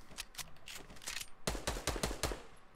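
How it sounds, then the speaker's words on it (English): Rapid gunfire in Fortnite shooting into bushes: a quick burst of shots, a brief gap, then another tight string of loud, close shots, with no talk. "I'm just shooting bushes"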